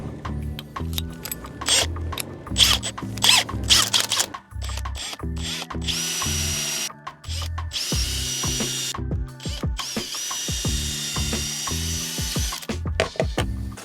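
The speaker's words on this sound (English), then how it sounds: "you don't have to have it on hammer to drill into brickwork" A power drill bores into brickwork in repeated bursts with ratcheting clatter, starting and stopping close by, with a longer sustained run near the middle.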